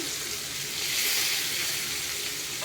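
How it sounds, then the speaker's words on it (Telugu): Pieces of fish fry in a pan for fish biryani, giving a continuous close, bright sizzle that stays even and unbroken throughout. "ఇంకో వైపు తిప్పుకొని ఫ్రై చేసుకోండి."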